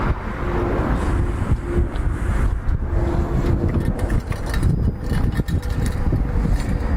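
A fuel-injected 2008 Kawasaki Vulcan VN1600 motorcycle engine running, a loud, continuous low rumble up close, roughened by gusty wind noise on the microphone, with no one speaking.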